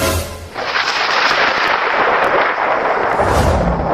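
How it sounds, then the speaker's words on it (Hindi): A loud, continuous roaring rumble fills the whole stretch, like heavy thunder rolling overhead, with deep booming surges at the start and end. "बादल गरजने लगा, अब जरूर बारिश आएगा"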